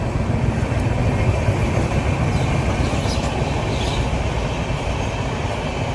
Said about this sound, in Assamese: এয়া ট্ৰেইন গ'লেই